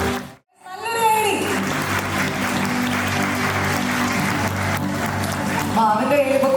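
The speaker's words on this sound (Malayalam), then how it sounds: "നല്ലൊരു കൈയടി." An audience at a preschool annual day and graduation ceremony breaks into a steady burst of applause after a short pause, with children's voices and music mixed underneath.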